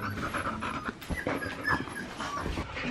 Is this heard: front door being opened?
no